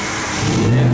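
A 500 kW Nissan S15 revs nearby, its loud engine roar building and deepening over about a second amid event background noise.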